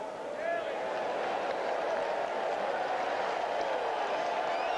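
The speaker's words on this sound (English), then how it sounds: "The applause you hear is for the scoreboard." A baseball stadium crowd on a cool afternoon in Milwaukee breaks into sustained applause, a steady wash of distant clapping and murmuring that holds for several seconds.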